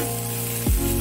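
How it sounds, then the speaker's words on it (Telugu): Tender tamarind leaves frying in oil, a steady broadband sizzle throughout that swells louder near the end as the leaves settle into the hot oil. "ఆయిల్లో మగ్గ పెట్టడం అండి"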